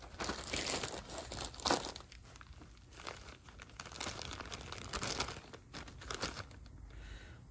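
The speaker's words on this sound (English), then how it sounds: "we'll put the bag on here. Tear the scale with the bag" A bag of jeweler's floor sweepings set on a weighing scale crinkles and rustles steadily up close, papery crackles rising and falling without any speech.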